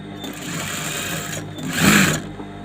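A sewing machine hems the neck lining of a saree blouse with a close, steady whirring run that swells louder briefly near the end before easing off.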